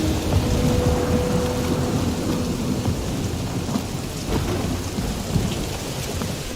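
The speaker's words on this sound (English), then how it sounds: "That is some really crazy lightning out there!" Thunderstorm in Marvel's Guardians of the Galaxy video game: steady, loud rain hiss with low rolling thunder rumbling throughout, occasional sharper cracks standing out, no voices.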